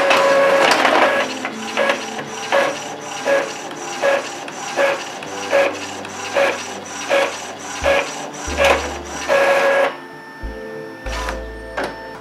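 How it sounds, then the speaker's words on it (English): An Epson EcoTank inkjet printer running a mono copy job: a steady train of rhythmic mechanical clacks and whirring feed strokes repeating about every half second, close and moderately loud, ending in lower motor hums and a few final clicks. "Let me do the quick copy test."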